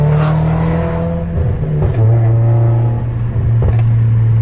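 A Nissan E210 with a newly installed rear motor mount launches hard with traction control off to test for wheel hop: a loud, close engine drone rises, stutters with abrupt judders, then revs on under load.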